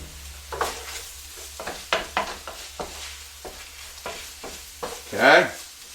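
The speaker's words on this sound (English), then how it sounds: "Put the meat back in." Browned meat goes back into a hot pan for an Italian dish, giving a sizzle under a string of sharp scraping stirs and clacks, with a louder swell near the end.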